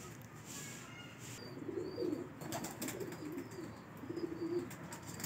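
Soft high flyer pigeon coos repeat at a middle distance during breeding season over steady outdoor background noise, with a few faint chirps.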